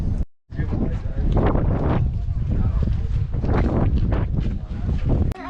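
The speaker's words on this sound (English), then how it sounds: "And it's windy and cold." Strong wind buffets the microphone in loud, rumbling gusts on the summit of Clingmans Dome in the Great Smoky Mountains, almost continuous and close, with faint voices barely audible under the roar.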